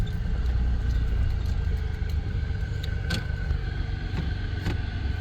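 A car engine runs steadily in reverse with a little throttle, a continuous low mid-pitched drone that holds fairly even for several seconds, with a few faint clicks and clatters on top and no talk.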